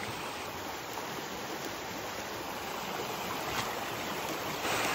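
Floodwater rushing past a washed-out dam where people fish: a steady, dense roar of flowing water, loud and close, continuing unbroken throughout with no voices.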